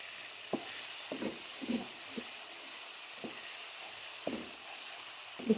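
Keema sizzling and frying in a pan with green chilli and vinegar, a steady hiss broken by occasional stirring scrapes and taps, close and fairly quiet with no talk.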